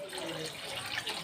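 Water poured into a cooking pot for a thin fish curry with ridge gourd and potato, a steady close splashing trickle heard alone for a moment.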